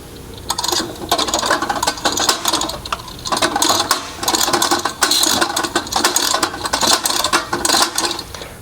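The arbor of a spring-driven hose reel declutches while the drum spins backwards, producing repeated clattering ratchet clicks in quick bursts with a mechanical whir, close and fairly loud, with no voices.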